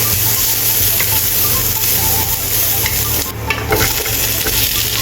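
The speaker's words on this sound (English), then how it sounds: "Stir-fry ginger slices." Ginger slices stir-frying in a wok for celery with cashew nuts, a loud steady sizzle with scraping stirs and a brief burst of clatter midway, no voices.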